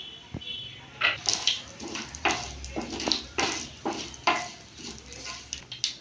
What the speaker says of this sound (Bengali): দিয়ে দেবো অল্প তেল, সাদা তেল, দিয়ে দেবো কালো সর্ষে ফোড়ন, দিয়ে দেবো শুকনো লঙ্কা